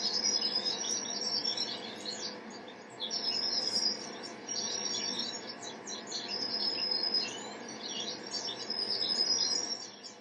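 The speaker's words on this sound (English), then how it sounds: "I mean, damn, birds." Birds chirp and sing outdoors in a steady, busy chorus, with repeated high trilling phrases over a low background hum and no talking.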